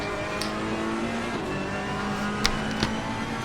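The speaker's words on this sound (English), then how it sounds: "I'm just gonna sit back and listen to the crackle and pop out of this Ferrari engine." A Ferrari race car engine drones steadily in Assetto Corsa Competizione at the Hungary circuit, a sustained mid-level hum with a couple of sharp crackles and pops near the end, no voices.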